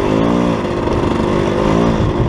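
A motorcycle with a Recluse auto-clutch runs steadily nearby under engine braking, its loud, continuous engine drone shifting slightly in pitch without pause.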